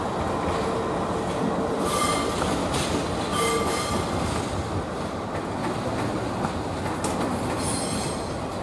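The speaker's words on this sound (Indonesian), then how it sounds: "Ini ada lokomotif, teman-teman." A CC206 locomotive-hauled train rolls past near a Jakarta station at a steady, moderate distance, a continuous rumble of wheels on rails with occasional high metallic squeals.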